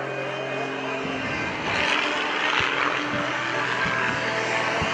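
A loud, steady roar from the Flashfire jet truck's J-34 jet engine at an airshow, a harsh, broad rumble that swells and grows louder partway through, with no talking.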